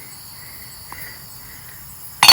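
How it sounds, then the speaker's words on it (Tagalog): Crickets chirp steadily at night in a quiet rural setting, a soft continuous high trill that holds through the whole stretch before a brief louder burst of noise at the very end. "Yung naririnig natin dito ngayon ay yung huni ng mga kuliglig."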